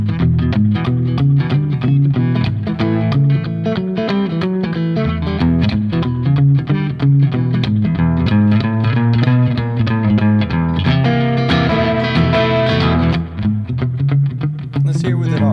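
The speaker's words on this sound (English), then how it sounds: "Let's try reverb that is on many a board. The spring reverb." An electric guitar plays sustained, slightly gritty chords and notes through a spring reverb effect, loud and continuous, with a brighter, busier passage near the end.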